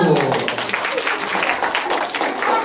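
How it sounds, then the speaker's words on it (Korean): Children at a Sunday school service clap for a teacher, a brief burst of crowd applause with a voice speaking over it near the start. "수고해주신 김나훈 선생님의 박수"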